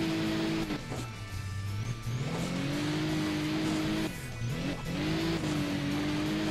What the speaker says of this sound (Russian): давай попробуем на маслкаре погонять